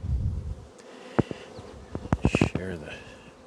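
Honey bees buzzing around an open hive during beekeeping work, a faint buzzing hum beneath a man's nearby speech and some handling knocks.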